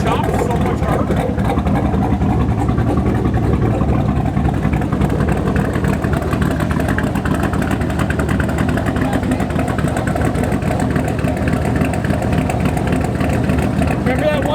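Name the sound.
twin turbo Malibu engine running with new huge turbos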